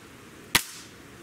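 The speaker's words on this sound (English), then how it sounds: "Last shot, number 5." A single sharp, loud crack from a Gamo Whisper Fusion Mach 1 .22 caliber air rifle, heard alone with a short ringing tail that fades quickly into quiet background.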